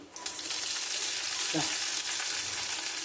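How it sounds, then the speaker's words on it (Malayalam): Crushed ginger and garlic sautéing in a pan, a bright continuous hiss of hot oil after a brief quiet start, with one faint clink midway, close and without speech. "ഇത് നമുക്കൊന്ന് വഴറ്റിയെടുക്കാം"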